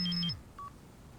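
Cellphone dialing tones: a short run of bright keypad beeps over a low held tone that drops away, then one brief faint beep, fairly quiet, with no voices.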